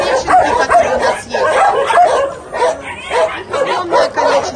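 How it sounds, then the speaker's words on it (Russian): Puppies at a dog shelter barking, yipping and whimpering close by: loud, overlapping yaps in uneven bursts that go on throughout. "Это не все щенки, которые у нас"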